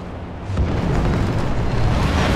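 Spaceship thrusters at full thrust in Star Citizen surge in abruptly, becoming a loud, steady roaring rush of broadband noise that holds without a break.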